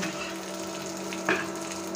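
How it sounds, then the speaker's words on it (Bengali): Turmeric-, chili- and coriander-marinated fish fries in a pan of nearly browned onions, a steady close sizzle with one brief sharp crackle as the pieces hit the oil, no talking. "পেঁয়াজ অলমোস্ট ভাজা হয়ে গিয়েছে। এ পর্যায়ে আমি দিয়ে দিচ্ছি মাছগুলো।"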